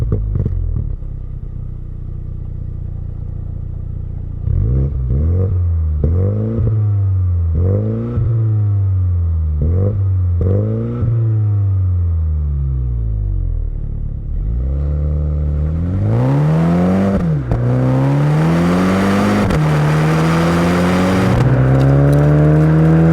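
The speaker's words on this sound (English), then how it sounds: "this is a hot hatch, so let's fire it up so you guys can hear how it sounds" A 2021 Mini Cooper JCW GP hot hatch, fitted with twin center exhaust tips, starts up close by, then its engine revs in a series of sharp repeated blips that climb and fall, ending in longer, harder revs.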